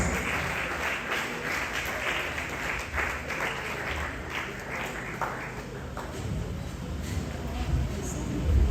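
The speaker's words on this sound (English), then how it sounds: "Can we give him a round of applause?" Audience applause after a call for a round of applause at an academic citation ceremony, as a professor comes to the podium; steady clapping runs throughout with a voice heard over it.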